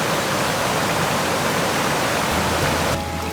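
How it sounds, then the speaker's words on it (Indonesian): Hot spring water pouring from a bamboo spout into a small riverside bathing pool in Tabanan, Bali, a steady broadband rushing splash that fills the whole stretch at an even, fairly loud level with no talk. "kolam ini juga dilengkapi sebuah pancuran bambu dengan aliran air panas"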